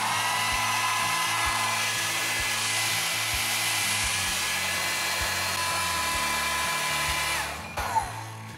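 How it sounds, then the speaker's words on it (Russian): A Xiaomi Mijia Negative Ion hair dryer (CMJ01LX3) blows steadily with a loud, even whine and rush of air for several seconds, then a brief click as it cuts off near the end. "Вот такой вот замечательный фен от компании Xiaomi."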